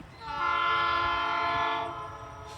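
A leading EMD diesel locomotive sounds a long, loud, steady multi-chime horn blast at a rail line in Folkston, Georgia, swelling quickly and holding for over a second before fading, with faint rail rumble beneath.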